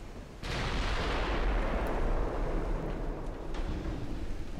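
Naval guns firing high-explosive shells in a dreadnought-era battle game, a sharp heavy blast followed by a long rumbling roar with wind and sea noise, a couple of fainter reports later.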